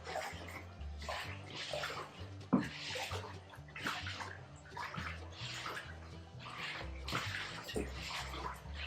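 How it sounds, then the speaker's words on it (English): Livestock salt is being stirred into a tub of water for tanning, giving a steady sloshing, swishing churn with rhythmic surges and one sharper knock partway through, close and continuous. "I'm going to make sure you get that mixed up and well incorporated so that your water looks cloudy."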